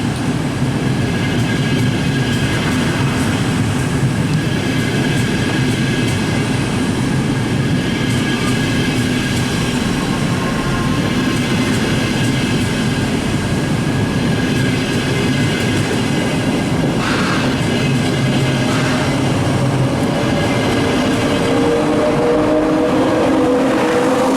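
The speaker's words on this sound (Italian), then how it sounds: "Il treno regionale 2624 di Trenitalia delle ore 14:35 per Belluno è in partenza dal binario 2" A Trenitalia regional electric train rumbles steadily with rolling wheel noise and faint clatter, a continuous close hum building gently as it pulls away from a station platform.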